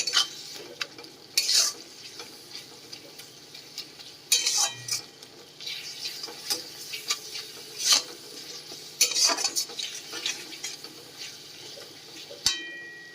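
Spice masala for a katla fish curry is stirred and sautéed with a little warm water, a spoon scraping and clinking against the pan in repeated bursts over a soft sizzle.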